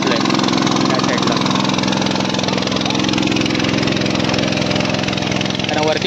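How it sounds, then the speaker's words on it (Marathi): A water pump engine drones steadily and loudly beside a paddy field during traditional rice planting, a close, unbroken mechanical hum with no pauses. "बघा पंप लावला आहे आणि पाणी घेतलं आहे त्या साईडला"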